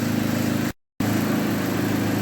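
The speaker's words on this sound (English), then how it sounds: "it's just sitting here idling, and the fan is running on low speed" A Dodge Caliber engine idles steadily with its radiator cooling fan running on low speed, a constant close hum broken by a brief dropout of silence.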